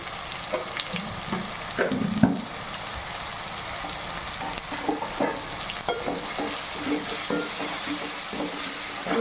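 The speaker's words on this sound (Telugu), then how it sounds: "ఇది అడుగంటకుండా బాగా కలుపుకోవాలండి" Chicken curry stirred and frying in a pan, a steady sizzle running throughout with soft scraping strokes of a spoon at intervals, close and even, with no talk.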